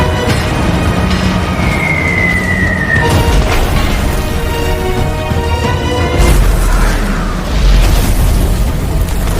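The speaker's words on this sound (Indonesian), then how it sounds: "salah satu pesawat memuntahkan beberapa bom napalm yang menyebabkan terjadinya ledakan besar dengan gulungan api besar yang menyebar" A napalm bomb explodes in a Korean War film battle scene, throwing out a huge spreading fireball. Loud, sustained rumbling booms run throughout, with a tonal whine and a fresh heavy burst partway through.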